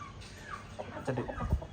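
Aseel rooster about eleven months to a year old, a Sankranti fighting bird kept at a poultry farm, gives a few soft clucks over a faint farmyard background.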